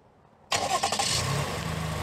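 The engine of a 2020 Toyota Highlander starts remotely from the key fob after half a second of quiet. It fires with a sudden crank and catch, then settles into a steady idle nearby.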